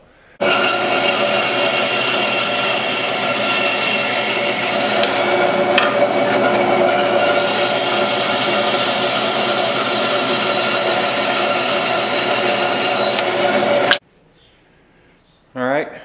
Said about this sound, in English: I'm going to go ahead and trim the epoxy off here and here